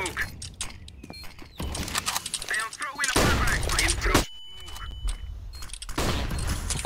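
Rapid bursts of gunfire from a Counter-Strike: Global Offensive match crackle in close, dense volleys separated by short pauses, with excited player voices talking over the shooting.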